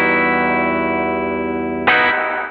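Electric guitar played through an amp's built-in spring reverb, heard as a sustained, darker-toned chord ringing out alone, then a sharp new strum near the end, fairly loud and close.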